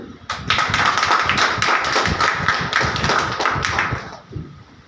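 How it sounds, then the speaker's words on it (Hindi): An audience at a business training seminar breaks into vigorous applause. The rapid, loud clapping starts abruptly, holds for about four seconds, then tapers off near the end. "अपने लिए एक जबरदस्त ताली बजाइए।"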